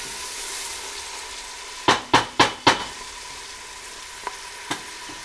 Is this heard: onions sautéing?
yes